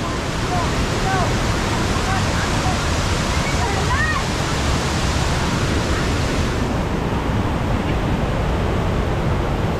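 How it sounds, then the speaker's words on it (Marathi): A loud, steady roar of falling water fills the scene, broadband and unbroken, with faint distant voices and whistle-like calls briefly audible. "वॉटरफॉल एकदम डेंजरच आहे इकडे"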